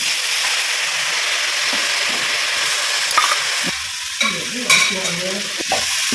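Grated coconut and beetroot sauté in a hot pan, a steady close sizzle with the scrape of stirring breaking through now and then near the end.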